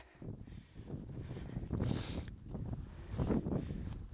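Wind gusts in the mountains buffet the microphone in rough, low rumbling bursts that swell and fade for several seconds, with no voices.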